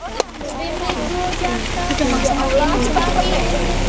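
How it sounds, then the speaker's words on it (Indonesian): Heavy rain pours down steadily outdoors on a geology field trip at Karangsembung, Kebumen, a dense constant hiss that begins with a sharp knock. A voice talks intermittently over it. "Hujan semakin deras."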